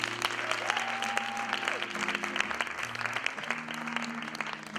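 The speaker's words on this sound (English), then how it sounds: "Can you give them one more round of applause?" A church congregation breaks into continuous applause, dense hand clapping carried over a sustained keyboard or organ chord underneath, close and steady throughout.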